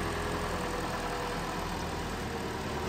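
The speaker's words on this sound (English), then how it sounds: "Nice clean running engine." A 2017 Kia Forte 2.0-liter engine idles steadily with a smooth, even hum and faint mechanical ticking, constant and close, with no talking.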